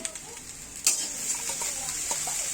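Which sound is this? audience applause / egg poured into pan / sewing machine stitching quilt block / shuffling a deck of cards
egg poured into pan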